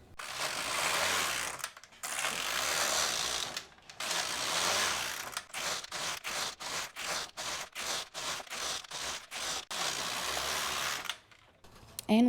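Brother KX 350 knitting machine carriage sliding back and forth across the needle bed, knitting plain rows as long rattling whirs separated by pauses, then a quick burst of short clicking strokes before another full pass.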